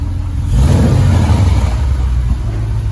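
A car engine revs through its muffler after a long rebuild, a deep throaty exhaust rumble that swells after a moment and holds loud and close, with no voices over it.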